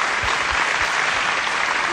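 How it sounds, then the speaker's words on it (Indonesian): Dense applause sound effect, steady and loud throughout, played at the close of a Christian family retreat session; a continuous wash of many clapping hands with a few soft low thumps underneath. "Ini ada tambahan tepuk tangan efek"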